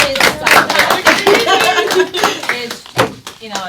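A classroom audience claps for a discussion session, a short burst of hand clapping with mixed rhythm, close and fairly loud, mingled with voices.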